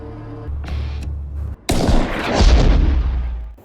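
Gunfire from a character named Ryder in an action film: a loud sharp blast followed by a dense, roaring burst of shots and booming reverberation that fills the rest of the moment.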